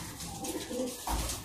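Soft, low cooing of a female high-flyer pigeon over a faint background hum, a short throaty call rising near the end.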